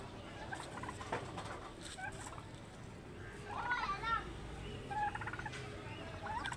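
Turkeys and chickens gobble and cluck faintly while playing in a pool of soil, with scattered short calls and soft pattering over a low outdoor background.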